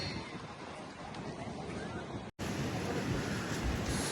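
Sea waves on the shore at Somnath, a continuous broad roar of surf mixed with wind buffeting the microphone, briefly cut off midway.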